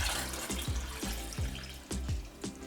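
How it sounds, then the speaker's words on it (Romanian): Cold tap water runs into a saucepan holding two eggs, a steady splashing stream with rhythmic sloshing pulses, close and moderately loud with no talking. "Le voi acoperi cu apă"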